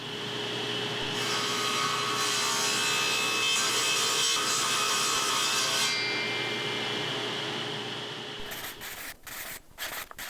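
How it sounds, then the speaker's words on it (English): Hardwood lantern pieces are shaved about a tenth of an inch narrower to remove burn marks, giving a steady, loud abrasive rasp that holds for several seconds and then gives way to a few sharp clattering knocks at the end. "So I'm going to shave about 1/10 of an inch off of pieces like this"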